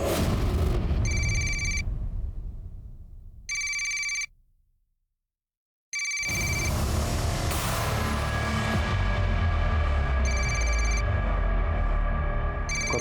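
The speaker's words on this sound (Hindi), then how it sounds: "कब से फोन बज रहा है" A telephone bell rings in repeated bursts in a TV crime drama scene, sounding over background music and ambience with a brief quiet gap midway.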